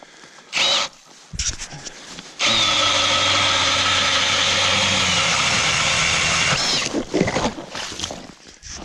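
Engine-driven ice auger boring holes through lake ice for an ice-fishing shack: after a few brief rattles and bumps, a loud steady whining drone runs for about four seconds, then cuts off into clatter and handling noise.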